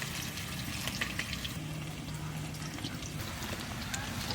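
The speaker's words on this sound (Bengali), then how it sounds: "আস্তে আস্তে জাল দিয়ে লাল করে ভাজতে হবে।" Potatoes frying in a pan give a soft, continuous sizzle with scattered small crackles, quiet and steady throughout, with faint talk in the background.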